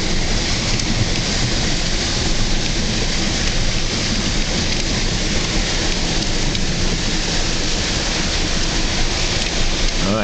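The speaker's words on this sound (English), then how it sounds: "Because that rain is coming and just keeps making it worse and worse." Heavy rain pours steadily on a flooded road, a dense, loud, continuous hiss with no breaks and no voices.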